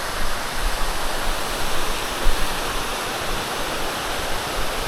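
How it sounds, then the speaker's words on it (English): Steady broadband rush of a waterfall beside the Appalachian Trail, loud and continuous with no breaks or voices, a dense wash of falling water close by. "Definitely a waterfall now."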